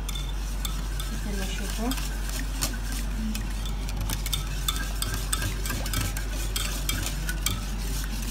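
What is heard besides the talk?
stirring a sauce mixture for chicken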